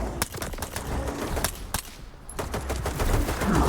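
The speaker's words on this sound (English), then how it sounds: "Oh, that's a freaking sniper rifle." Loud, sharp gunshots ring out in STALKER 2 amid a busy firefight, with a few heavy cracks spaced through the scene over a steady bed of combat noise.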